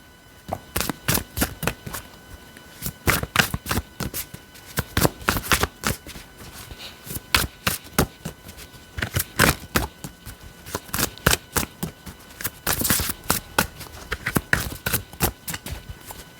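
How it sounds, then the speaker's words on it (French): Tarot cards shuffled by hand, a long run of crisp riffling and slapping bursts in quick irregular clusters, close and clear over a quiet room. "Alors, les cartes glissent."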